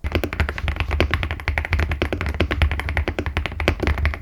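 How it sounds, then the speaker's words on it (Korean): Fast typing on an AK47 mechanical keyboard, a dense, even run of crisp key clacks heard close and loud with no voice over it. "이렇게 막 도각도각거리고 보글보글거리는 그런 조약돌 부딪히는 느낌이 충분히 납니다"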